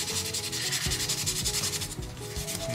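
Sandpaper rubs over a primed scale model car body in quick, rhythmic back-and-forth strokes, close and steady with no talking.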